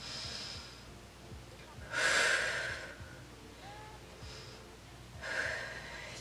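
Heavy, forceful breaths during a held abdominal plank in a no-equipment home workout, with two loud exhalation bursts a few seconds apart over quieter steady breathing.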